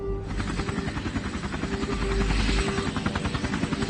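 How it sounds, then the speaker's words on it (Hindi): Helicopter rotor thudding close and loud in rapid rhythmic chops over a whining turbine, steady throughout. "डॉक्टर आपके लिए हेलीकॉप्टर मंगाया है।"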